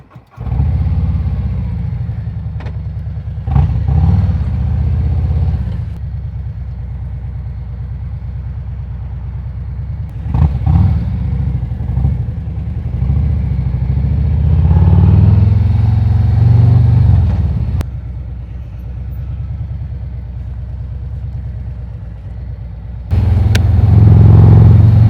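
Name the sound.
2025 Road Glide motorcycle with 117 engine riding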